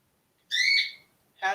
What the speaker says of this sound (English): I don't know what to do about this bird.